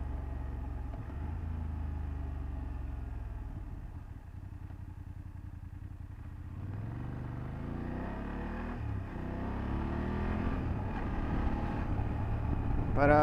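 A 2024 BMW F 800 GS motorcycle is ridden along, its engine droning steadily with pitch rising and falling through gear changes, building louder toward the end over constant wind rush.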